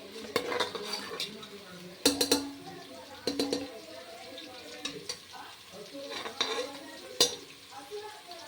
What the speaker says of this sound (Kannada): ಚೆನ್ನಾಗಿ ಮಿಕ್ಸ್ ಮಾಡಿ